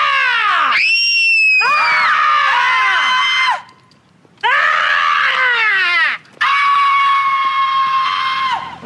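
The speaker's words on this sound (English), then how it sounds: "all of a sudden you hear that little girl scream." A young girl screams loudly in long, piercing shrieks, three sustained bursts separated by brief pauses.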